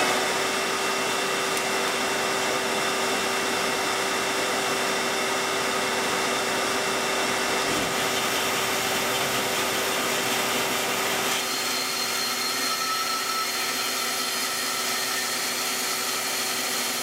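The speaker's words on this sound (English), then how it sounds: "So, let's fire up the shop vac and get started." A shop vac runs continuously in a woodworking shop, giving a steady, fairly loud motor drone with a constant whine that changes character slightly partway through.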